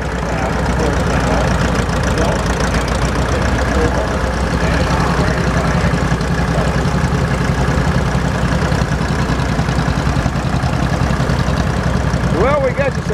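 A tractor engine idling at a steam and gas show sawmill, a steady loud mechanical rumble with a regular knocking pulse, running continuously with faint voices in the background.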